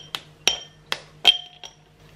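Dark chocolate bar being snapped into pieces by hand, five crisp, sharp cracks spaced about every half second, close and fairly quiet with no talking.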